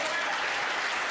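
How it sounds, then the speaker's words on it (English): Audience applause for a church choir, a steady, fairly loud burst of many hands clapping together, brief and continuous. "Give yourselves a round of applause for doing that."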